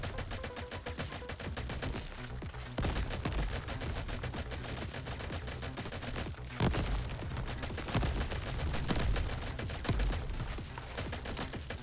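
Turret in the co-op game Crab Champions firing nonstop, rapid machine-gun bursts with heavier thumps and explosions layered throughout, loud and dense with no pauses.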